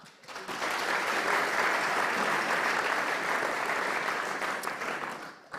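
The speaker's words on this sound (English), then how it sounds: "Please, a round of applause for Peter Emsley." A room at an AGM and awards evening breaks into applause for Peter Emsley, a dense, even wall of clapping that rises quickly, holds strong for several seconds and then fades.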